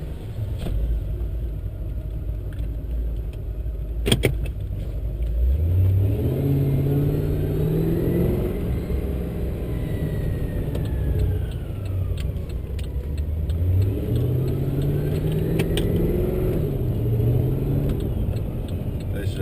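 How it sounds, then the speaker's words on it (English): A Whipple supercharged Holden VE Maloo ute with a Turbo 400 transmission rumbles from inside the cab, a deep, loud engine note that rises and falls through repeated revving sweeps, with a few faint clicks. "let's take this Whipple supercharged Turbo 400 VE Maloo"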